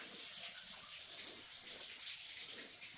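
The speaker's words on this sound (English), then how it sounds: "Lots of water in here." Water rushes among big boulders beside a wet, slick trail in Big South Fork, a steady, even hiss heard from nearby with no voices over it.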